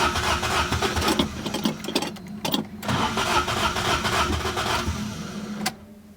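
A 1975 Toyota Corolla KE35 with a dying starter motor cranks repeatedly in loud, close, uneven churning bursts, failing to catch before falling quiet near the end.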